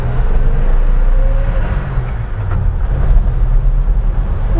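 A 1965 Ford F-100 truck accelerates at full throttle, giving a steady low engine drone with road rumble that dips briefly midway and then builds again, with no talking.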